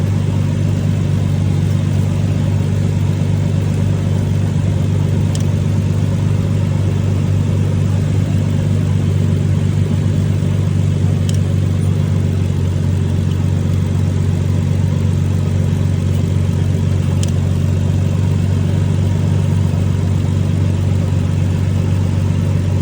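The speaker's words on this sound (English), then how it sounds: "now that the engine has warmed up to operating temperature" A Nissan Stagea engine runs at operating temperature, a steady close idle with an even low hum and whir that holds unchanged throughout, broken only by a few faint clicks.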